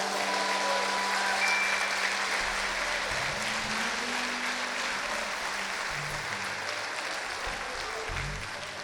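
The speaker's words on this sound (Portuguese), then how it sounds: "Pode aplaudir a Jesus, vai." A church congregation applauds during a worship service, a long, even wash of many hands clapping at a moderate distance, with faint low tones beneath it, sustained for nearly nine seconds before slowly easing.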